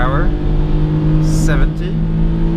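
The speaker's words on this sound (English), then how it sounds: "Really high revving engine" A 1989 Honda Today XTI's fuel-injected 550cc engine drones at high revs in third gear, a steady strained whine up close, with a couple of brief hissing bursts over it.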